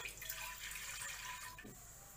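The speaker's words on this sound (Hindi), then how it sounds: "मैंने इसमें एक से दो ग्लास पानी डाल लिया है" Water pours into a pressure cooker in a steady splashing stream for a couple of seconds, fairly quiet, heard alone.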